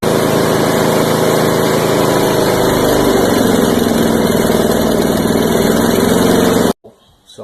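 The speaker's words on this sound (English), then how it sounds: "I can get it to start and then get it to start and run on half choke, but once I crank it up to wide open throttle, it cuts out and stops." A small Agri-Fab lawn vacuum engine runs on half choke with a loud, steady, buzzing drone close up. It cuts off abruptly near the end, leaving only faint handling noise.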